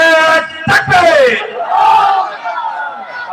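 A crowd at an outdoor Islamic waz mahfil gathering loudly chants Allahu Akbar in unison in answer to a Naraye Takbir call, several forceful shouted phrases with strong echoing voices rising and fading.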